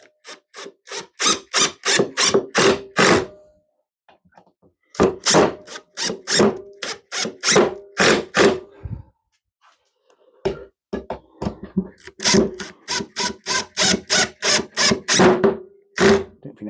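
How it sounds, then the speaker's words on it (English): An impact drill drives screws into wood while a sparrow nest box is built. Three close, loud bursts of rapid hammering clicks run a few seconds each, separated by short pauses. "I got an impact drill."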